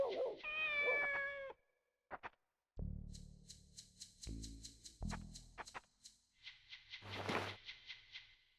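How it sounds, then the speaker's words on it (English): A cat in the video game Shenmue meows in a series of short, clear calls, some drawn out and others clipped, with quiet gaps and soft game sounds between them. "we're going to eventually hear the cat meow"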